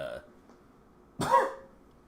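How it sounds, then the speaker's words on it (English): After a brief quiet stretch, one short, harsh cough from someone with a cold bursts out close to the listener, then quickly dies away. "sorry for my coughing and stuff"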